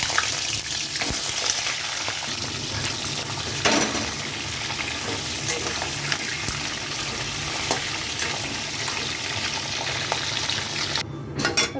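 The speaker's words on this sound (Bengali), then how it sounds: "তো এখানে কাঁকড়াটা দিয়ে দিচ্ছি ভাজার জন্য।" Crab pieces frying in hot oil for a spicy village-style Bengali crab kosha, a steady, dense sizzle and crackle that runs continuously at close range with no voices.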